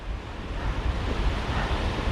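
Seawater washing in at a fishing shore, a steady broadband rush of surf with low rumbling swells and some wind buffeting, continuous and fairly close throughout.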